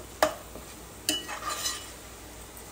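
Onion frying with tamarind leaf paste in a pan, a few quiet scrapes and clinks of a stirring spoon over a faint low sizzle, heard close and alone.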